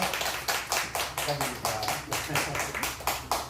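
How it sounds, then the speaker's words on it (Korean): A group claps steadily in even rhythm at a church youth worship service, many hands together, with a murmur of voices underneath. "축하 박수 많이 부탁드립니다."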